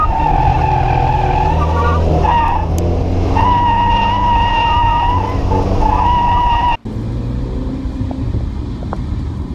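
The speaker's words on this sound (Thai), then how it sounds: "เสียงเครื่อง V8สามารถคำรามได้สนองหูสุดๆ" A high-revving Ferrari GTC4 Lusso T V8 engine roars steadily with a strong, whining tone, briefly cut off near the end before continuing more roughly, like a race car at speed.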